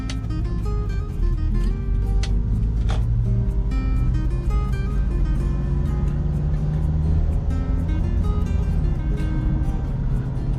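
A watering truck drives along a road in an industrial area, spraying roadside plants, its steady engine drone and traffic rumble continuous and fairly close, with no clear pauses.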